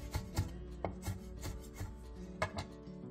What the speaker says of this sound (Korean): 대파 3분의 1개를 쫑쫑 썰어주세요.